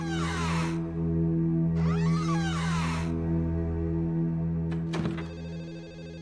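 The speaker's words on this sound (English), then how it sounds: "You probably heard the ringing phone downstairs" A telephone rings downstairs in the horror game Ju-On: The Grudge, two long bursts over a steady low hum, followed by a brief click-like clatter, with no voices present.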